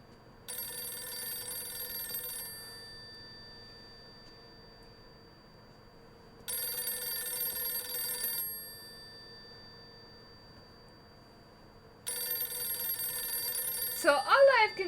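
A telephone rings in the horror video game Silent Hill f: three long bursts of bright electronic ringing separated by pauses, with a short burst of other game noise at the end.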